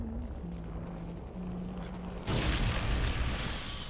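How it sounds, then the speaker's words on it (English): A care package drops in during an Apex Legends match, with a low humming tone first, then a sudden loud impact burst around the midpoint that gives way to a dense, sustained roar of noise. "I'm calling a lifeline package in."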